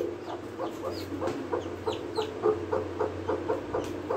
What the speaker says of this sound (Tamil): இதெல்லாம் எங்க கோழி குஞ்சு.